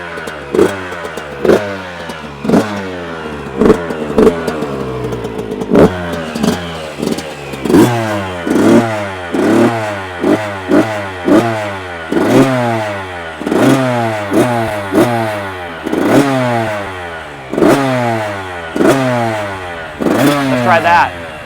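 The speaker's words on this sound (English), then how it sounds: "Actually, the bike even sounds deeper, like it has more power." A Yamaha YZ85 dirt bike engine revs repeatedly, loud and close, each blip climbing sharply in pitch then falling back to a rattly idle, in a steady cycle of throttle bursts.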